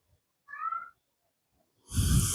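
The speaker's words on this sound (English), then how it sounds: "Can you hear Angus moaning in the back" A house cat gives a single short, soft meow in a quiet craft room, followed by a burst of rustling or clattering nearby; no one speaks.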